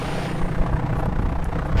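Helicopter departing in the DOS game Flight Simulator 5.1 at Peoria International, a steady loud rotor and engine drone filling the whole moment without any talk.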